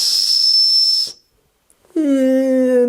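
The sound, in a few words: blowing the whistle built into a FLISSA multi-tool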